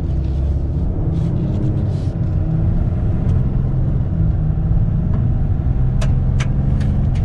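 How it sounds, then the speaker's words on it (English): A 2019 RAM 2500 Cummins diesel pickup engine rumbles and revs steadily as it accelerates, a deep low drone close by, with a few faint clicks near the end. "Let's give it some gas."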